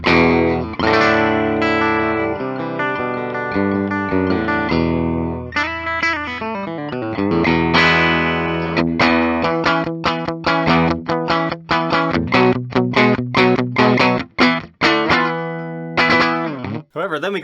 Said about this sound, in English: Bridge pickup actually sounds pretty darn close to a P90.